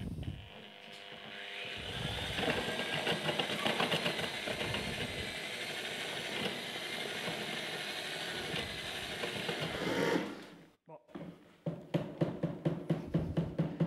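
A mixer churning waxed concrete powder and liquid runs for about ten seconds as a continuous mechanical whir with a grinding rattle, then cuts off abruptly, followed by a series of short, rhythmic knocks.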